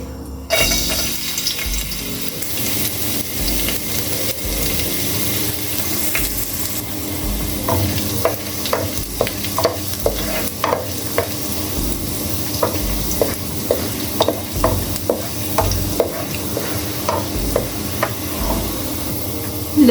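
Chopped garlic sizzles steadily in hot oil in a pan while a spoon scrapes and stirs it in regular strokes. The frying hiss is loud and continuous, and there is no talk.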